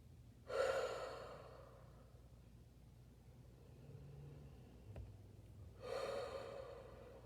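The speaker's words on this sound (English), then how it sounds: "I ask everyone here to take 3 deep breaths." Deep breaths during a guided reading: two strong, close inhalations about five seconds apart, quiet breathing between them, with no talking.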